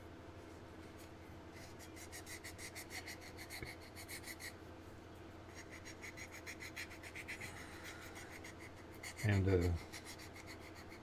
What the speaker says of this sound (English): this is just a regular fingernail file you get at the Dollar Tree or Dollar General